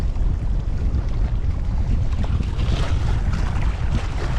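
Strong, cold wind buffets the microphone at a lakeside bank while crappie fishing, a steady loud roar with gusty surges and watery wash beneath, no voices.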